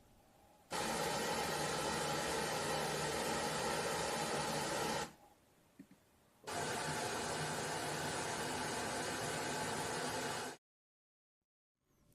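Two long bursts of steady broadband noise, Dirac Live audio measurement test tones, each several seconds, separated by a brief quiet gap, then abrupt silence.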